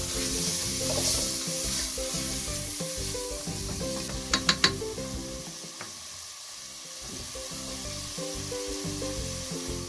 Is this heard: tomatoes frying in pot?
yes